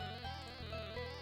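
Hornets buzzing in the video game Armaeth: a low, steady insect drone with pulsing swells, faint and brief, heard alone.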